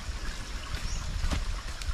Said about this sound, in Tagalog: Ito may tubig din. May maliit na tubig.